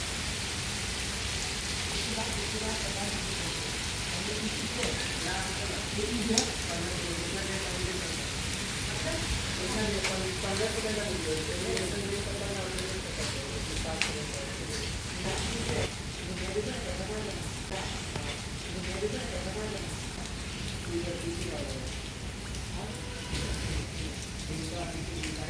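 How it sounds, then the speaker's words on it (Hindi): Heavy rain pours steadily on an outdoor film-shooting location among trees, a dense continuous hiss throughout with occasional heavier drops, while someone talks over it at intervals. "क्या बारिश है साहब।"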